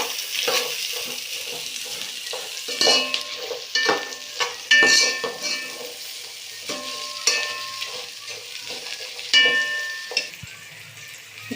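Onions sizzle and fry in a hot pan for Andhra-style coconut rice, a steady crackling hiss with bursts of stirring and scraping, close and fairly loud with no voices.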